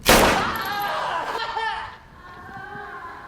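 A loud gunshot in an action film bursts out at the start, followed by ringing, echoing clatter and a dramatic, fading soundtrack tail.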